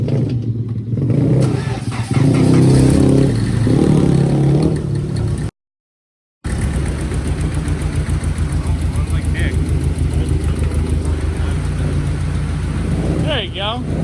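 A Nissan S14 engine cranks, catches and revs loudly up close, then settles into a rough, pulsing idle, while people talk over it.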